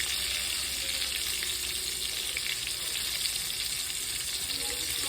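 Chicken fried steak sizzles steadily in oil on a gas stove, a loud, continuous frying crackle that holds even and unbroken throughout with no voices.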